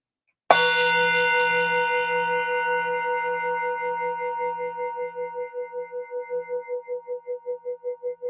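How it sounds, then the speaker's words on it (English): A meditation bell struck once at a Nagasaki Day peace gathering rings out loud and clear, its bright tone slowly decaying with a pulsing shimmer over several seconds of silence. "Keep with a silent meditation with the bell."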